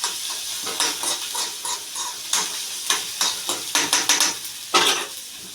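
Rava appam batter frying in a little oil, with a steady sizzle under repeated stirring and clinks of a spoon against the pan, fairly close and moderately loud, no talking.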